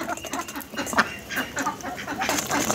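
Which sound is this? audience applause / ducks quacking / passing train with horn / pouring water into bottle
ducks quacking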